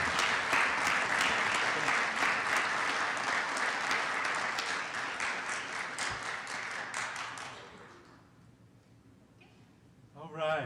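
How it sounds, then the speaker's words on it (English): Applause fills a city council chamber, a sustained round of clapping from the audience that gradually fades away, followed by a brief burst of talk at the end. "Let's give them another big round of applause"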